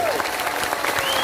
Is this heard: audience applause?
yes